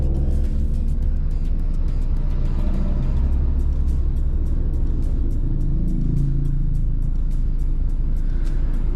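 Continuous road traffic with trucks on a highway between Banjarbaru and Balikpapan, a loud, steady low engine rumble and tyre roar that fills the whole stretch without a break.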